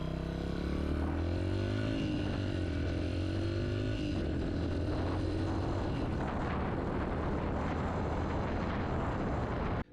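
A motorcycle accelerates hard with clutchless quick shifts, the engine tone rising in steps with brief breaks as each gear changes, loud and steady throughout with no talking.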